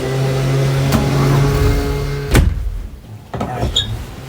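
A door shut to block the noise of a loud machine running outside, giving a sharp thud over a steady mechanical hum, after which the room drops noticeably quieter.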